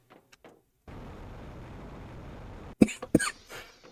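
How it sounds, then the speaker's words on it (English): Two sharp coughs from one person, close and loud, breaking a stretch of steady low hiss with a few faint clicks before it. "Sorry, I got a cough today."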